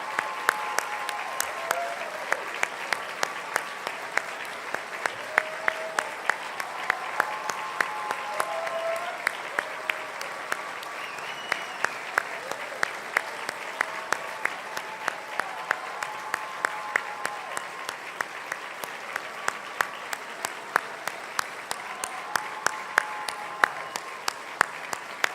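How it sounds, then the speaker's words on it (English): Sustained applause from an evening audience greeting the 2018 class of Miami-Dade College Alumni Hall of Fame inductees, a steady dense wash of clapping with a few whoops and voices mixed in, holding at an even level throughout. "Give them a big round of applause"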